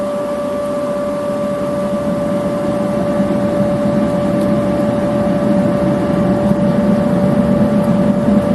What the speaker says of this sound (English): we'll get the blower going and we'll start melting